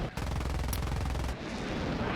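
Rapid aircraft cannon fire in the jet combat game War Thunder, a dense burst of rattling shots that is loud and sustained for about a second before cutting off into engine noise.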